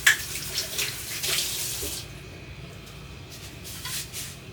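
Tap water runs steadily into a kitchen sink while sausage-making equipment from a KitchenAid mixer is rinsed, the splashing heavier for the first couple of seconds and then easing to a lighter, even flow, with no talking.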